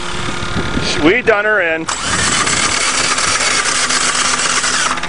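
An engine with no compression cranks unevenly for about a second, then fires and keeps running in a steady, loud, rough idle, close by, with someone talking over the start.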